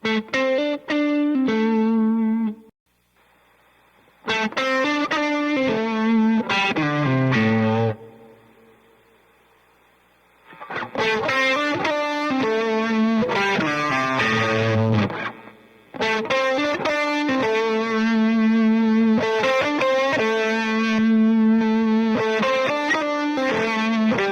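Overdriven electric guitar through a second overdrive stage stacked with a Klon-style pedal, playing chords and riffs with a gritty, saturated tone, in several loud bursts separated by short pauses.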